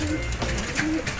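A racing pigeon arriving at its loft during a pooling race, giving soft repeated cooing close by with faint background noise and a quiet voice.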